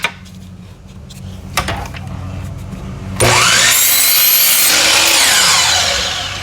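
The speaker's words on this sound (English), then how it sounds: "we're going to cut a 10-degree miter on one side, facing down away from the dado." Power miter saw slicing a 10-degree miter in a long board, first a quieter spin-up with a brief knock, then a loud, sustained bite into the wood for about three seconds before winding down.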